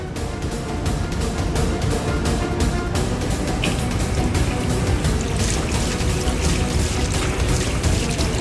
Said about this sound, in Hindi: पहले मुंह में थोड़ा सा पानी मार लेते हैं